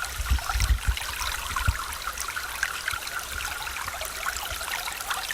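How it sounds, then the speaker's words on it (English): Water from a spring, running high after heavy rain, trickles and streams steadily, a continuous wet hiss with occasional low gurgles and splashes, fairly close by. "Spring's flowing pretty good with all this rain"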